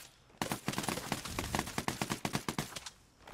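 Rapid bursts of gunfire in a video game, a fast uneven string of loud cracking shots that starts abruptly and rattles on for about three seconds with no talking.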